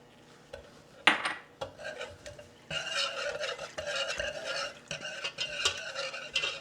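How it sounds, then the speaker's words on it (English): Whisk stirring a mac and cheese sauce seasoned with salt, pepper, garlic powder and paprika in a pot, a steady scraping and clinking churn with a sharp metallic knock near the start, close and fairly quiet. "You want to make sure that you're whisking the whole time to keep it nice and smooth."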